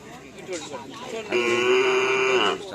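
Cattle at a karapan sapi bull race training ground in Asemanis, Pamekasan, moo loudly and close by, one long sustained low call following shorter sounds, while people talk in the background.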